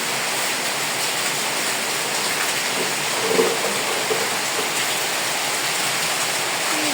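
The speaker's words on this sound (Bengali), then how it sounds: "কি জোরে বৃষ্টিতে হচ্ছে।" Heavy rain pours down in a dense, steady hiss, loud and constant with no letup, outdoors on a rainy day, with a faint brief knock partway through.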